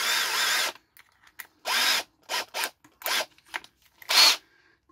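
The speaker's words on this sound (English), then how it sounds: "run the drill backwards." Short bursts of a power drill running in reverse, about seven triggers of varying length separated by near silence, close and fairly loud, with no voices.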